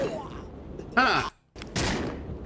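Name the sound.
gunshots in a video game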